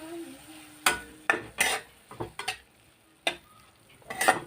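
Cumin seeds and curry leaves stirred in a pan while making a leftover-rice breakfast: a handful of close, irregular spoon scrapes and clinks against the metal, with quiet gaps between strokes and no talk.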